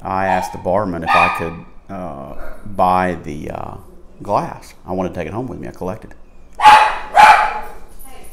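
Someone speaks steadily, and near the end a dog lets out two loud barks close by.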